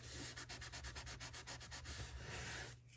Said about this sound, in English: I'm going to just fold that up and burnish that down